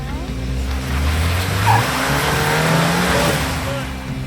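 A RAM TRX truck's engine drones steadily off-road at an ORV park, with low throttle swells and a brief rise in revs midway, while a voice talks over it.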